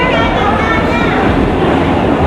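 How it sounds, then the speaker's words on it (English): A loud, steady rumble of a passenger train arriving at a station close by, with broadband roar and rattling filling the whole clip. "The train is here!"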